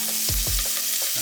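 Garlic hitting olive oil in a pan gives a steady, close sizzle, broken by a couple of low thumps and brief stirring scrapes.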